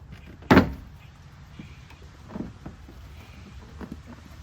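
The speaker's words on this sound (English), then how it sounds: "you can go ahead and just pull the door panel off" A Honda door panel pulled off by hand, giving one sharp loud pop of released clips, then a few faint clicks and rustles of trim handling nearby.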